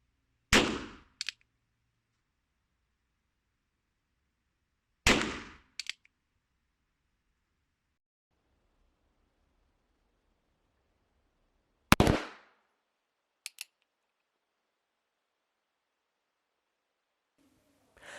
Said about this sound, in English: I shot 2 full cylinders on the target I used to test accuracy